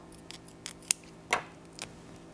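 Scissors snip paper being trimmed for a slider card, four or five short crisp cuts spaced irregularly over two seconds, close up and quiet against a silent room.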